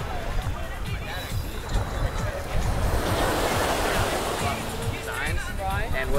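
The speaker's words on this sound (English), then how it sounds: "Got a nice wind kicking up right now, so it's not that humid, but absolutely beautiful today on the beach." Steady wind and breaking surf wash over Lido Beach in Playa del Carmen, a continuous loud roar of waves with gusty microphone buffeting throughout.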